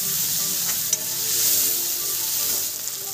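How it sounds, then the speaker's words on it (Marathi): Finely chopped tomato sizzles and fries steadily in a hot pan with softened onion and curry leaves, a close, continuous hiss with faint stirring. "1 बारीक चिरलेला टॅमॅटो परतून घ्यायचा आहे।"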